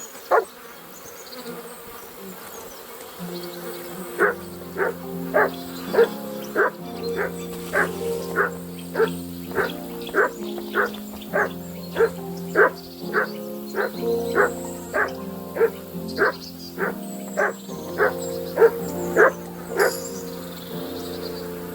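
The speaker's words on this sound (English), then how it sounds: "Sit and bark." A dog in Kingdom Come Deliverance 2 barks on command, about two dozen sharp, regular barks in a steady rhythm over a low hum, close and clear.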